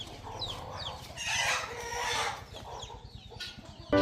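A rooster crows nearby in a village during Sankranthi, with clucking fowl around it, several drawn-out calls and shorter clucks over about four seconds with no talking.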